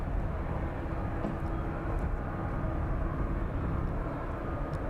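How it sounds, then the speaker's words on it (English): Jet2 airliner on final approach at East Midlands airport, inbound from Lanzarote, heard as a steady broad engine roar with low rumble, loud and continuous outdoors. "Jet 2 service in from Lanzarote on final approach now."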